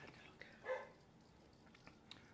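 A single short dog bark, somewhat distant and moderately loud, with a few faint sounds afterward over a quiet background.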